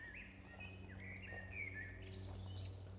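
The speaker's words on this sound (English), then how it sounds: "This is a blackbird." A blackbird sings in a forest, giving a faint run of warbled phrases over steady background hum and rumble.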